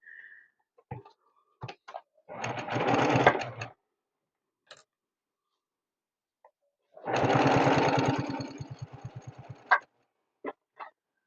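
A sewing machine chain-pieces flying geese quilt units in two steady bursts of rapid stitching, a couple of seconds each, with scattered clicks and handling noises in the pauses, close by and without talk.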